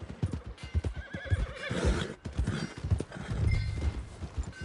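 A horse whinnies loudly at the stables in Red Dead Redemption 2, with clip-clopping hooves stamping in an uneven rhythm around it, close and clear, no talk.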